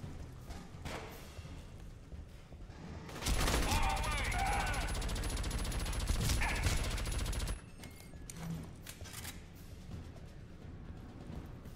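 Auto turrets fire in Aliens Colonial Marines: a loud, continuous rapid burst of gunfire lasting about four seconds, bracketed by quieter in-game noise and scattered thumps before and after.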